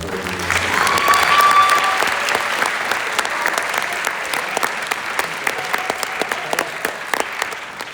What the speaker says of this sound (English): Now we may applaud all of our 4-year.